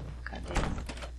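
A single door opening in Resident Evil HD Remaster, a short mechanical clunk and rattle lasting about a second, no talking.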